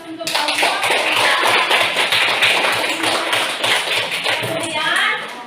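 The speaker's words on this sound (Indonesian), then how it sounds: "Kita berikan aplaus untuk kelompok 3." Classroom of junior high school students applauding a student group, dense rapid clapping from many hands filling the room, close and lively with voices mixed underneath.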